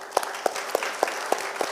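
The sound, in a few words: applause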